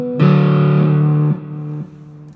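Electric guitar with light distortion, reverb and delay plays a sustained chord that rings out, then two lower changes follow, each note decaying into a soft echoing tail; no voices.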